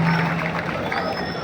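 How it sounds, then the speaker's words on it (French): A crowd applauding and cheering at a ceremony handing over 300 donated school benches at a technical school in Ndjili, a dense continuous wash of clapping and voices under a faint tone. "Vos acclamations, s'il vous plaît."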